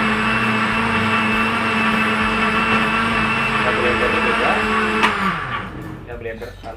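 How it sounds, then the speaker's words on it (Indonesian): A blender whirs loudly and steadily as it purees chopped dragon fruit and kitchen waste for homemade liquid fertilizer, then the motor winds down and the pitch drops in the last couple of seconds. "blender sekalian buah naganya. Buah naganya kita blender."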